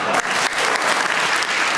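Dense audience applause from a studio crowd, loud and continuous with many hands clapping at once, filling the whole stretch without pauses.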